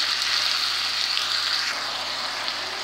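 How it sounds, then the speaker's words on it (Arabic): Minced kefta meat sizzles steadily in a pan with onion and pepper, a dense, even hiss that runs unbroken and fairly close, with no voices. "هنا بعد ما نزلات البصله والفلفله غادي نضيف هاد الكفته وغادي نحركها مزيان"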